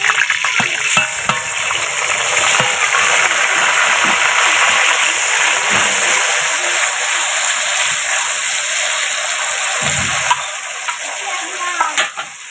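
A spice paste and green chillies fry loudly in a generous amount of oil with bay leaf and dried chilli for a fish-in-oil dish, a continuous close crackling sizzle with a few sharper spatters near the end.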